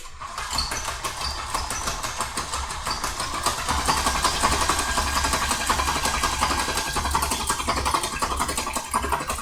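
A stand mixer whisks egg whites for amaretti biscuits, a constant close motor whir with a rapid rhythmic beating of the whisk in the bowl, running steadily throughout with no talk.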